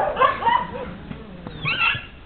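A dog, one of a group set loose on a larger dog, gives short yips and whimpers, mid-distance, with harsher bursts near the start and end over faint background noise.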